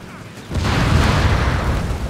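A grenade blast in a Company of Heroes 3 match, a sudden loud boom followed by a sustained rumbling roar of debris and battle noise lasting over a second.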